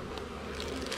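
Honey bees buzz around a hive box in a brief, dense, steady hum, close and moderately quiet with no pauses.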